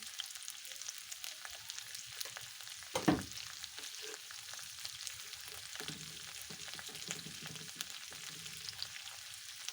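Fish pieces with salt and turmeric fry quietly in a pan as they are stirred, a low steady sizzle with one louder scrape near the start and faint clinks after; nobody speaks.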